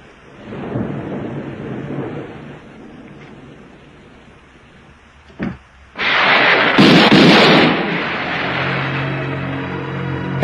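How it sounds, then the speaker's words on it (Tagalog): A heavy rainstorm with thunder: rumbling rolls build early, a sharp crack comes midway, then a loud burst of roaring rain and thunder that stays intense to the end, with no voices. "Masyado malakas ang ulan eh."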